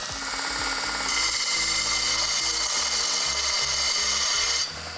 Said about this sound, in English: Go ahead and fire up. And I'll put a little notch in this 1¼ inch tube.